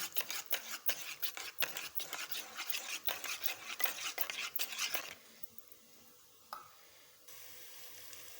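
Rapid scraping and clinking of a spoon stirring a yogurt marinade with black pepper and salt in a bowl, steady and close for several seconds, then slowing to a few quiet taps.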